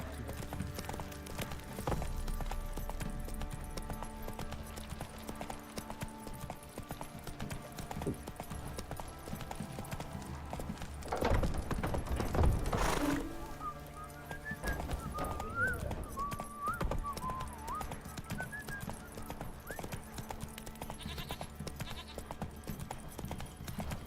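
Roach the horse gallops in Witcher 3, a steady clip-clop of hooves running at a moderate level under game ambience and a short louder burst midway.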